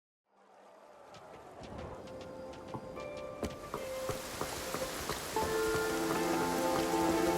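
Rain in the video game Infinity Nikki fades in from silence and builds into a steady patter of drops on surfaces, with scattered crisp droplet ticks and faint tonal game ambience underneath.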